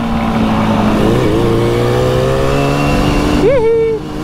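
A Suzuki GT185 motorcycle engine hums steadily on a test ride, shifting pitch as it gains speed, then gives a sharp rising rev near the end; loud and close.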